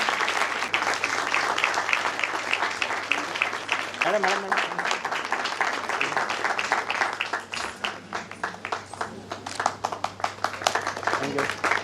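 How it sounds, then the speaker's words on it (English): Audience applause at a Bharatanatyam classical dance event: dense, sustained clapping from a large crowd that fills the whole stretch, with a voice talking over it. "A big round of applause of lights"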